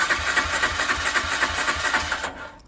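A long-unused barn-find Honda CG 125 motorcycle engine turns over in a quick, rhythmic chugging pulse for about two seconds before cutting out, heard close with no talk.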